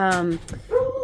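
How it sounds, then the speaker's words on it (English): A dog gives a brief, pitched bark-whine, then a second short whine, close and fairly loud, all within about a second. "oops, sorry about the dog"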